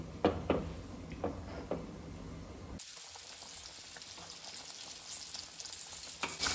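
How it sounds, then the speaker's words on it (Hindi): Masala sizzling and bubbling in a hot pan, a steady crackling hiss with a few louder spits near the start. "थोड़ा सा उबलने देंगे"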